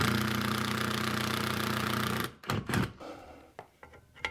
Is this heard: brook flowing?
no